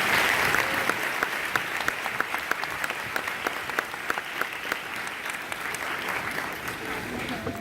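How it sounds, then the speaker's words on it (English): Graduation audience applauding the Vice Mayor of Daly City, a sustained roomful of clapping with sharp individual claps standing out, steady and moderately loud, fading slightly near the end. "so let's give her a big round of applause."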